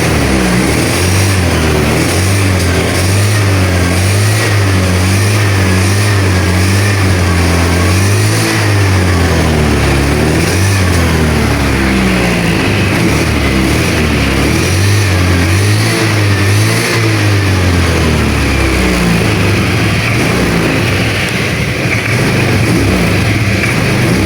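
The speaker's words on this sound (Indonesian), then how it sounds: "Coba kita gas." A Honda Vario 110 scooter engine revs repeatedly, climbing and falling in several loud, close throttle blips over a steady running idle, with no talking.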